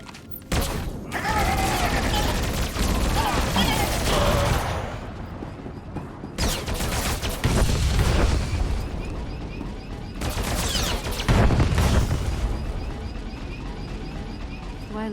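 Rapid gunfire bursts and booming explosions from a trench battle against artillery droids and gun turrets in the game SWTOR, loud dense volleys in several waves separated by brief lulls.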